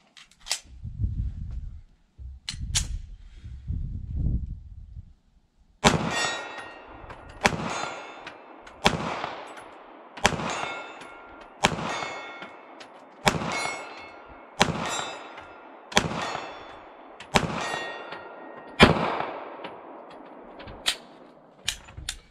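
Smith & Wesson 5906 pistol fired at a steel plate 40 yards away: after a few faint low thumps, a steady series of about a dozen sharp shots, each followed by a bright metallic ring as the bullet strikes the steel, with no talk.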